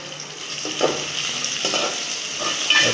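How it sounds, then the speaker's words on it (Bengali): Salt being stirred into a goat head frying in a little oil in a village kitchen, a steady soft sizzle with a few louder scraping stirs, close and without speech. "এরপরে আমরা লবণটা একটু হালকা তেলে ভাজার জন্য নাড়াচাড়া করে নিলাম।"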